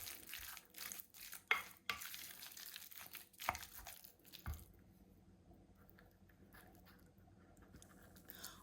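Stuffing of chopped tomatoes and herbs for Greek-style cheese-stuffed peppers being mixed in a bowl, with soft wet scraping and squelching strokes for the first few seconds, then fading to near quiet.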